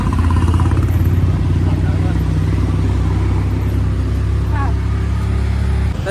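A small auto rickshaw engine drones loudly and steadily up close in the city streets of Belgaum, with a person talking over the rumble.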